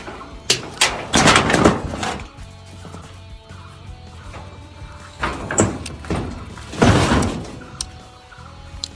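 A door at a chicken farm is handled and pushed open with several rattling knocks and thuds, loud and close, in uneven bursts.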